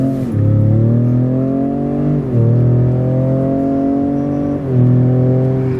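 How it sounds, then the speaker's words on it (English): A 2019 Ford F-150 Raptor accelerating hard in sport mode: loud, close engine revs climbing in pitch, broken by three quick upshifts where the tone drops before rising again, with no talk. "You also get some kind of the humpy sound coming from the engine"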